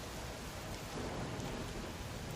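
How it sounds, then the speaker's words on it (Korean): Rain sound effect in a Korean audiobook reading of Robert Louis Stevenson's Markheim: a dense, steady downpour hiss, loud and unbroken, swelling slightly midway, with no voices. "빗소리가 집 전체에 너무 크게 울려 마크 하임의 귀에는 그것이 여러 가지의 소리처럼 들렸다."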